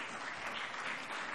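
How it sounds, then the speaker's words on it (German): Applause in a parliamentary plenary session: a dense, steady patter of many hands, fairly distant and even throughout the brief moment, with no voices. "das ist ein Applaus wert"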